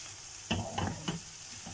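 Eggplant and tomato cooking without oil in a pan over high heat, a soft steady sizzle with three short close stirring scrapes in quick succession.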